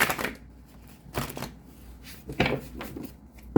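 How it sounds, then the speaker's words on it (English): Tarot cards being shuffled by hand in a few quick, rustling bursts, close and fairly soft, with short pauses between each riffle and no talking. "One more shuffle, Aries, for October 2021."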